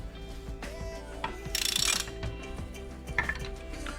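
Ratchet clicking rapidly while turning a T40 Torx bit on a 2016 Subaru WRX, close and clear, with a brief rasping burst in the middle.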